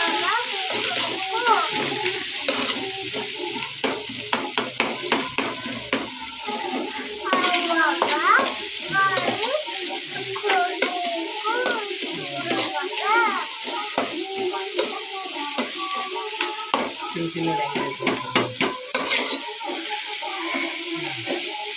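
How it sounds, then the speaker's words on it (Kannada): Onions fry in a pan for egg rice, a continuous hiss with intermittent stirring scrapes, heard under a person talking through most of the stretch. "ಈರುಳ್ಳಿ. ಇದನ್ನ ಸ್ವಲ್ಪ ಚೆನ್ನಾಗಿ ಫ್ರೈ ಮಾಡ್ಕೋಬೇಕು."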